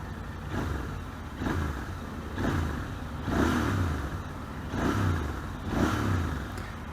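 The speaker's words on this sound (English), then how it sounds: "first time I'm going to be firing up this beautiful twin cylinder Royal Enfield" A Royal Enfield Interceptor 650 parallel-twin motorcycle engine revs up from idle again and again, about six even throttle blips that rise and fall in a regular rhythm, close and fairly loud.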